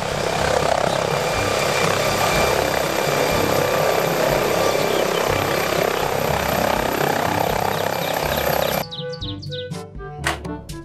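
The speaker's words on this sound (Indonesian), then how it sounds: "Helikopter." A helicopter flies close and loud, its rotor and engine drone steady for most of the stretch before cutting off abruptly, leaving a few bird chirps in the quieter end.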